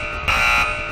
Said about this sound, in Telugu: బజర్ నొక్కొచ్చు మళ్ళీ